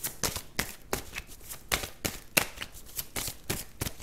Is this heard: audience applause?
no